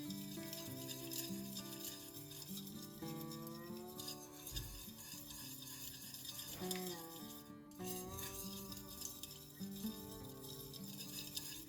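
A utensil stirs melted red candle wax in a pot, making faint scraping with light clinks against the container, soft and intermittent beneath background music.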